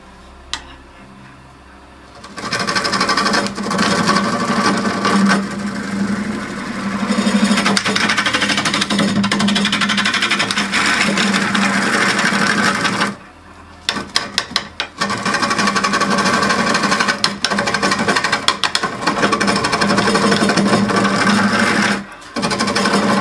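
A power tool bores into a pine wood vessel with a loud, continuous buzzing drone close by, briefly stopping and restarting partway through, then running on steadily.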